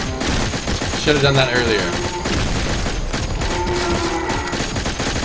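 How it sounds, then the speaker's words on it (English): Rapid automatic gunfire from a sentry gun in a zombie video game, a dense continuous barrage running throughout under excited players' voices. "Sentry gun."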